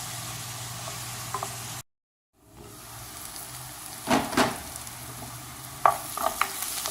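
Chopped onion sautés in a pot until golden, giving a low steady sizzle with occasional scraping stirs, cut by a brief pause.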